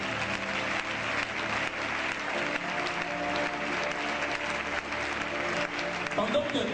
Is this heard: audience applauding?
yes